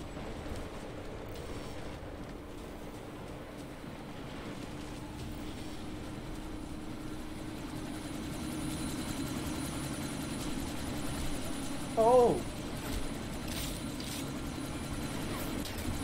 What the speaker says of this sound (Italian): devi fermare quell'elicottero subito